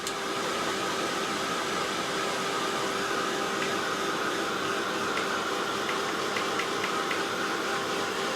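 A craft heat tool blows steadily while heat setting embossing, a constant near, even whoosh like a hair dryer lasting the whole eight seconds, with faint small clicks in the background.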